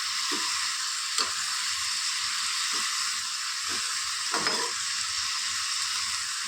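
Boiled beans cook in tempering oil in a pan, giving a steady bright sizzling hiss with a few soft stirring taps throughout and no talk.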